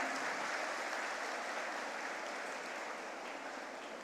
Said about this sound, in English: Please join me for a big round of applause for her and the entire team.